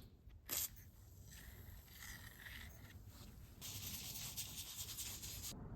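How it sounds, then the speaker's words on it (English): Sandpaper at 150 grit with WD-40 rubs surface rust off an axe head in quiet, steady, gritty scraping strokes, growing somewhat louder and denser toward the end. "I don't really know why WD-40 and sandpaper work to get the surface rust off so well"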